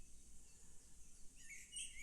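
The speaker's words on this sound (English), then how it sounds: "There were no other sounds but a breeze moving the trees, his own footsteps, and scattered birdsong from all over the empty city." Scattered birdsong in a quiet, empty city, with faint chirps and tweets rising over a soft, steady background breeze and growing a little brighter near the end.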